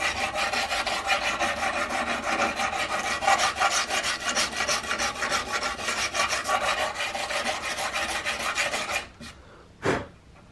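Rapid, rhythmic back-and-forth rasping of 80 grit sandpaper across the top of a rifle butt plate on a CVA Hawken muzzleloader build. The strokes are steady and close, then stop near the end, followed by a couple of faint knocks.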